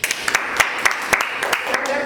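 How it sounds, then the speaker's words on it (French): A classroom or small group audience applauds a participant named Céline, giving a short burst of light, scattered claps with distinct sharp hits over a steady murmur. "On applaudit."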